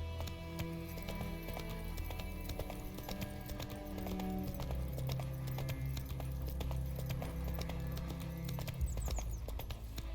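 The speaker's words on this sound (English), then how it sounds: "Not so fast, Roach." In The Witcher 3 video game, a horse's hooves trot at a steady clip-clop rhythm, close and clear, with soft ambient game sound underneath.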